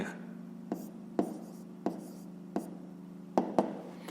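A pen writing figures on paper while working a fifth-grade math exercise, with soft scratching strokes broken by sharp taps every half second or so, close and quiet.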